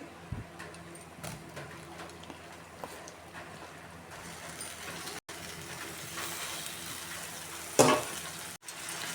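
Bitter gourd sautés in masala in a pan with a soft continuous sizzle and occasional stirring scrapes, fairly quiet and close, with a couple of brief clicks and a sharper clatter near the end.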